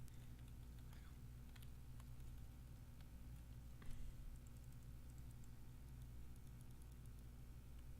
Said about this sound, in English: I like how it's playing the sound of like keyboards and clicking